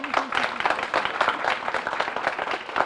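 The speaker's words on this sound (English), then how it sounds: "Let's give our superintendent a big round of applause" Steady applause from a crowd at a school district press announcement, many hands clapping at once for the superintendent in a continuous patter that holds at an even level throughout.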